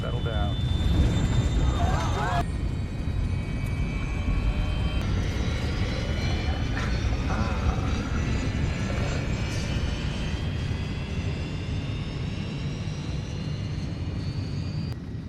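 A passenger airliner, flight 227 in the 2012 film Flight, roars steadily as it climbs out of cloud, a loud sustained engine drone with a voice speaking over it.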